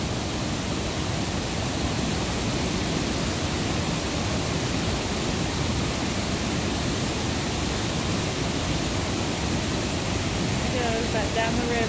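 Powerful river water surging past kayakers in a constant, loud whitewater roar, even and unbroken for the whole stretch, heard up close with no pauses.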